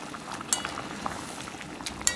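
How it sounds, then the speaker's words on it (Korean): Adzuki red beans simmer in a pot for five-grain rice, a soft steady bubbling hiss broken by a few faint clinks close by. "팥이 막 끓고 있잖아요"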